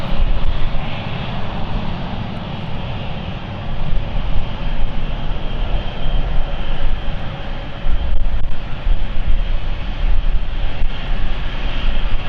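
A British Airways CityFlyer airliner at London City Airport produces a loud, continuous engine roar at close range, broad and rumbling with slight surges, and no voices.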